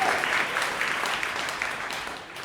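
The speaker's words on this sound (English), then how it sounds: "you can give a big round of applause." Audience applause at a live podcast conversation event, a steady dense wash of many hands clapping throughout, fairly loud and even, with no clear talk over it.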